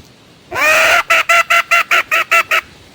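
A person imitates a red junglefowl hen's call in the mountains to lure a rooster: one long, loud, close call followed by eight quick, evenly spaced clucking notes, with no talk.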